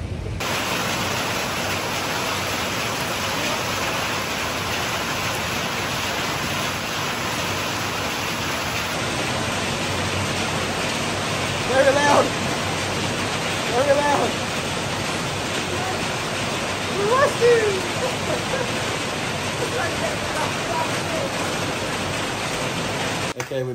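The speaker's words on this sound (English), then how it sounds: "still raining outside" Steady heavy rain hissing continuously at Temonyong Night Market, Langkawi, with a few faint voices briefly rising above the downpour.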